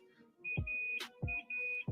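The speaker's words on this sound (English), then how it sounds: "So that beeping noise that you hear in the background" Repeated electronic beeps in short pairs from a hospital call button, steady high-pitched tones sounding in the background amid faint thumps and rustling.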